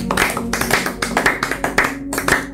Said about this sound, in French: Acclamons le Seigneur les hommes de Dieu.